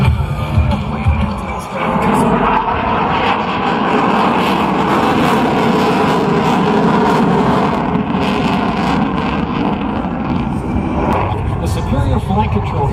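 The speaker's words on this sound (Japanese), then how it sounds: "Flight control computers allow the pilot to precisely position the aircraft, maintaining impressive nose authority even at high angles of attack and low airspeed." A Super Hornet jet flies a display at the 2025 Iwakuni Friendship Day air show, a loud, continuous engine roar sustained throughout, with an announcer talking over it.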